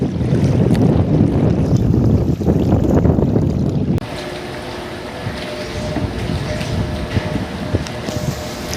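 Strong wind and rain batter a small fishing boat at sea, a loud steady roar of wind buffeting the microphone with water wash, dropping slightly in level partway through but continuing unbroken.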